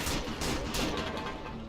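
Gunfire in Fallout: New Vegas, a rapid burst of several sharp shots in quick succession, fairly loud and near, heard without talk.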